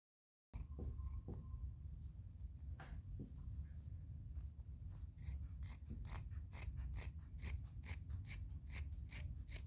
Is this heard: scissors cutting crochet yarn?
yes